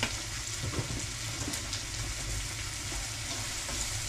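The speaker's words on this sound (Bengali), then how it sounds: "আর এইখানে আমার পিঠার পেঁয়াজটাকে ভেজে নিয়ে আমি তেল দেবো, তেল দেবো একটু" Onion fries in oil for a pitha batter, giving a steady, even sizzle with faint crackle throughout and no voices.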